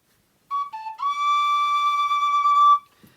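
A small wooden flute plays two brief notes, then one clear, steady note held for about two seconds, alone and fairly close.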